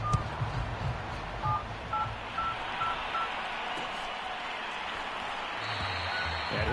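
Six or so faint telephone keypad tones enter a phone number into an automated phone line, spaced evenly and buried under a steady broadband hiss and rumble, with no voices.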